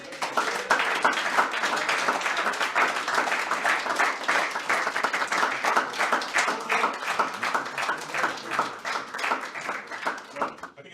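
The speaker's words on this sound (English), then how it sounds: "Give her another applause, everybody." An audience at a startup demo day in Dublin, 2018, claps with sharp, distinct hand claps that build quickly and hold steady for about ten seconds before tapering off at the end.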